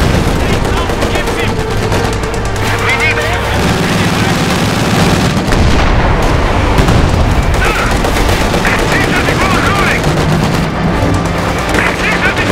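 Dense battlefield gunfire and explosions from the Company of Heroes strategy game, a constant loud wall of shots and booms throughout, with players talking over the din.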